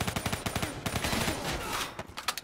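Rapid gunfire bursts from a gun in Call of Duty Black Ops 3, short clustered volleys of loud shots with brief gaps between them.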